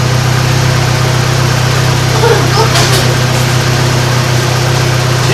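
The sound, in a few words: 2006 Saturn Ion engine idling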